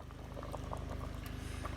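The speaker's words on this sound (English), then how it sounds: "Okay, our beans are boiling." Beans boiling in a pot on a stovetop burner, a steady close bubbling and popping that runs continuously with small irregular blips, no voices.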